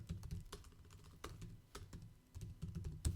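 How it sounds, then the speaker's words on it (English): Fingers tap on a computer keyboard in quick, irregular bursts of clicks with brief pauses between runs, heard close and at a quiet level. "Man, I am having a problem with my typing."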